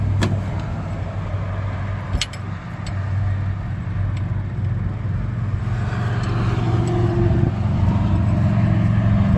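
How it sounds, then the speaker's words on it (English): Street sweeper's diesel engine cranks over steadily with a low, sustained drone while air is bled from loosened injector fuel lines, with a few sharp clicks near the start and no voices. "we'll crank it until fuel comes out of those"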